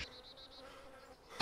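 Flies drone around a corpse in Arma 2 DayZ, a steady buzzing pulsing in short repeated swells before fading into a faint hum, ending on a brief louder burst.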